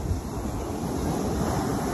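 Rough sea waves pound a beach in Thailand, a loud, continuous roaring surf mixed with gusty wind noise across the microphone, with no voices.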